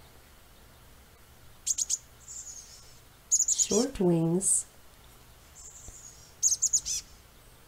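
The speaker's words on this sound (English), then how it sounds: "Our next bird is the chestnut-backed chickadee" Chestnut-backed chickadee calls in quick high bursts of three or four notes, repeated a few times, with a voice speaking briefly in between.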